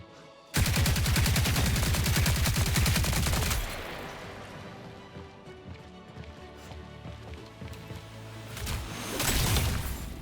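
Rapid automatic fire from a big gun in the sci-fi shooter game Marathon, a loud sustained burst of closely spaced shots lasting about three seconds, then quieter game ambience with a smaller flurry near the end.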